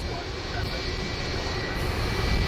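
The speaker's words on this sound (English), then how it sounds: "The Airbus A330 hit a light pole while taxiing" An Airbus A330 taxiing, a broad steady jet engine roar with a high tonal whine, continuous and fairly close, with a voice speaking over it.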